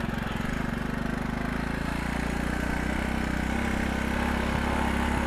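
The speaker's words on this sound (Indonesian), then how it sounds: "Gue lagi naik motor dan kameranya ngikutin gue." A motorcycle engine runs steadily while being ridden, a close, continuous mid-pitched drone with a fast pulsing rhythm and a slight shift in tone partway through, with no voices.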